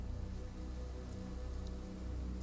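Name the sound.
rain in video game Total War Saga: Troy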